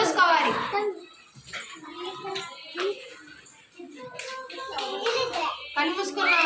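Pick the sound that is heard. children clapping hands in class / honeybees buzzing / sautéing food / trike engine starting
children clapping hands in class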